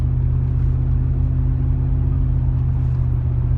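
Cadillac Escalade fitted with a Flowmaster Super Delta 50 muffler cruising on back roads with light throttle, a steady deep exhaust rumble and low drone holding constant and close, with no talking over it.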